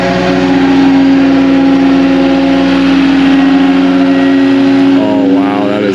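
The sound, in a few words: Cat 259D3 skid steer engine running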